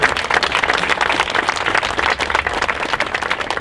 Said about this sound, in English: let's give Iron Mountain a great round of applause